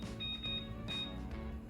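Kitchen timer beeps as it is set while egg-based dairy-free waffle dough cooks in a waffle iron, with three short high tones spaced apart over steady background noise.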